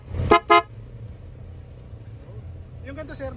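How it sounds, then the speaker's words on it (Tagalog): Two short, deep car horn blasts sound close together near the start, followed by low engine rumble and a voice speaking at the end. "superior bass horn"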